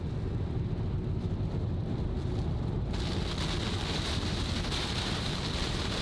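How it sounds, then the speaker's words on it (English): Light rain falls steadily during a storm out on open country with gravel roads, a constant soft hiss that gets a little brighter and fuller partway through, with no talking. "it's a little rain right now"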